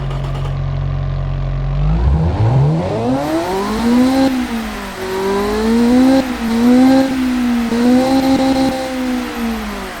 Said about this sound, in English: let's get to hear what this engine sounds like right now.